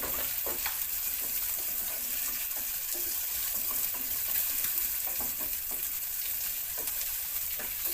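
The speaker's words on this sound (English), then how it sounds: "saute it until it gets soft" Onions and seasoning sauté in a hot pan with a steady, continuous sizzle and crackle, punctuated by small clicks and scrapes from stirring, with no voices.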